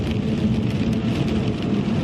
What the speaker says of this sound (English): then it's pouring raining